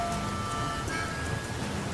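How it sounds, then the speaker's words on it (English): Steady rainfall in the survival video game The Flame in the Flood, a continuous soft hiss of drops with a faint low rumble and thin tonal game music lines beneath, no speech. "What the hell? It's still raining?"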